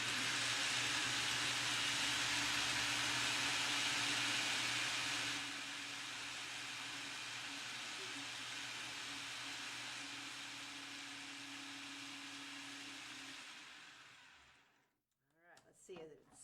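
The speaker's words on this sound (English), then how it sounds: "sesame seeds, olive oil, and salt in a food processor or a blender and process until smooth" A food processor blends sesame seeds, olive oil and salt, giving a loud, steady motor whir that drops in pitch partway through before stopping. A voice speaks briefly at the end.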